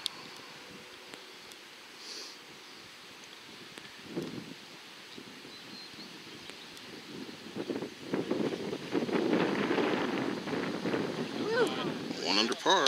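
Wind gusts across a golf course during a college tournament round, buffeting the microphone in soft rumbles that build stronger near the end, with people talking over it.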